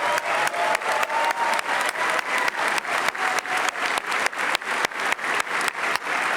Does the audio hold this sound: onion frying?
no